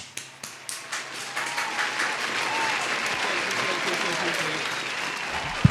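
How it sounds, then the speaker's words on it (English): An audience at a comedy special breaks into applause for a comedian, starting with a few scattered claps that quickly swell into steady, sustained clapping from the crowd. "Clap for him."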